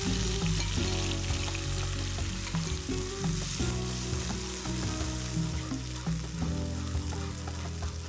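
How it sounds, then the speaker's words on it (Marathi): Ground masala paste hits hot oil in a pan for paneer Kolhapuri, giving a loud, steady sizzle and crackle that holds throughout with occasional stirring knocks. "तेल आपलं छान गरम झालंय। आता आपण हा जो मसाला वाटलाय ना तो टाकूया।"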